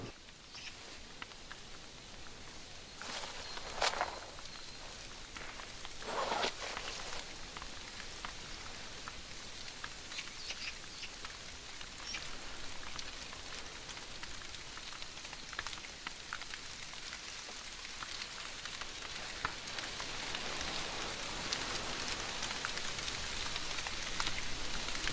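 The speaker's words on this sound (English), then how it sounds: "Oh, curse the rain." Steady rain patters on surfaces outdoors in a wilderness game setting, a continuous soft hiss with a few louder drops, alone and fairly faint.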